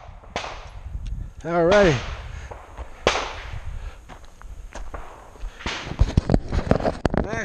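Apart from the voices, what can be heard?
Glock 43 pistol shots fired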